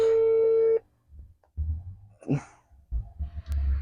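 A single phone ringback tone sounds once, clear and steady, then cuts off into near silence broken by faint breathing and rustling while a call goes unanswered.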